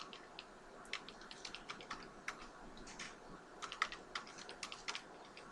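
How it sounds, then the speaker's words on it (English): Quiet keystrokes on a computer keyboard as a password is entered, a quick irregular patter of light clicks spread steadily across the whole stretch with no voices. "I'm going to enter a password."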